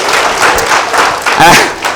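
A conference crowd gives a loud, dense round of applause that fills the room, with a voice speaking over it near the end.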